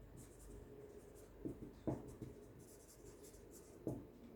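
Pen or marker strokes scratching across a board or paper while working out position vectors, soft scratchy bursts with a few sharper taps, quiet and close with no talking.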